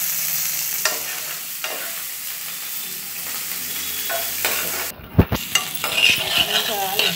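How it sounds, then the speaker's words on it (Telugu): Onions, green chillies and curry leaves frying in hot oil give a steady close sizzle with stirring scrapes. A sharp clatter and a louder burst of sizzling come midway, then lively frying continues. "దీంట్లో ఉల్లిగడ్డలు, పచ్చిమిర్చి, కరివేపాకు వేసినా కదండి."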